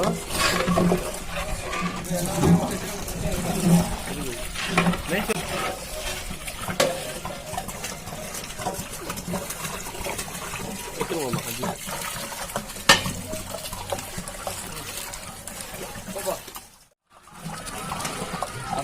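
Water pours and splashes into a cooking pot while ghee rice is being prepared, a continuous liquid gush with stirring and clatter, under steady talk in the kitchen.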